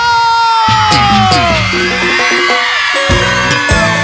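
A loud concert crowd cheers and shouts with whoops and screams, blending with high singing voices, energetic and close throughout.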